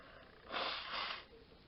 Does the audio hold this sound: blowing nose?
yes